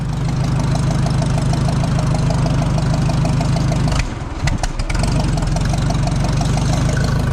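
The engine of a 1970 Ford F350 service truck runs loud and close with a steady rough idle, briefly stumbling and dipping midway before settling back into its even rumble.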